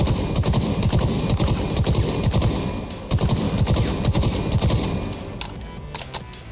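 A BR75 rifle in a video game fires rapid repeating bursts of clattering shots without recoil control. The bursts are loud and close, with a brief gap near the middle before the firing tapers off.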